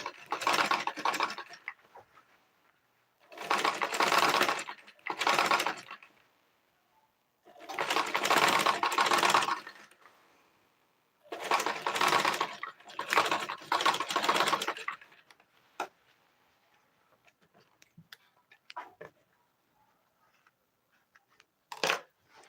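A sewing machine stitches the neckline of a kids' dress in several close, rapid bursts of a few seconds each, separated by quiet pauses, then light scattered handling clicks near the end.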